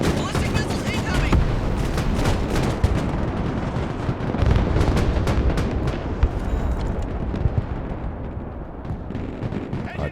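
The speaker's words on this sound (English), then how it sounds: "Ballistic missiles incoming!" Ballistic missile strikes in the video game Broken Arrow, a dense continuous barrage of booming explosions and crackling gunfire rumbling throughout, with heavy rain adding a steady wash and a voice talking underneath.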